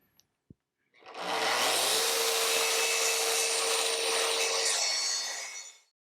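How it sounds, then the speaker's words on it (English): A track saw rips through scrap plywood in one long, loud, steady cut lasting about five seconds, preceded by a couple of small clicks and ending as the blade winds down. "So I have my track saw here and a piece of scrap plywood, and I'll just keep cutting triangles out of it until it's gone"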